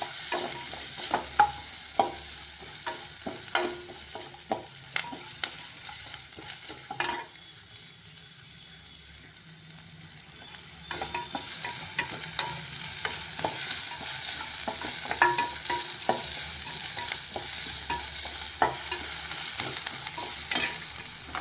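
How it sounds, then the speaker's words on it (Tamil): Onions sautéing in a pan for vendikai pachadi, a continuous close sizzle and fry with frequent scraping stirs of a spatula, steady throughout with a softer stretch midway. "நல்லா வெங்காயம் நல்லா வதங்கட்டும்"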